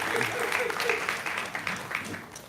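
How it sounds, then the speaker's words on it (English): An audience at a live poetry show applauds, dense steady clapping with a few cheers mixed in, fading slightly toward the end. "Round of applause for Safi one time"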